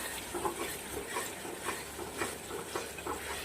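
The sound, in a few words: stirring and frying masala with onions in oil for katla fish curry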